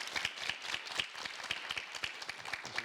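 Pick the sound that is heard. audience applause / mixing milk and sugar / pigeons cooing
audience applause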